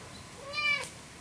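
A cat gives a single short, clear meow, rising and falling over about half a second against a steady low background hiss.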